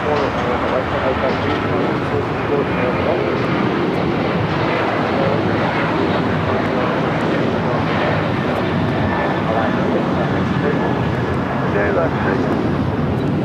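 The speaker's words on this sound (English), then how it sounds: "We got that Alaska flight heading to Reagan National, rolling down 25 right." An Alaska Airlines jet rolls down the runway at LAX with a loud, sustained engine roar and rush of wind noise lasting the whole stretch. Voices can be heard faintly beneath it.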